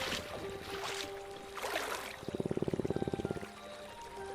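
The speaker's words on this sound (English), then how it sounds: "Feels good to bathe in water that isn't freezing for once." Water sloshing and splashing in a hot bath, with soft pouring and swirling sounds and a brief rhythmic rippling burst near the end, all close by.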